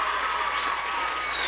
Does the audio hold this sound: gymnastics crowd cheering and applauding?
yes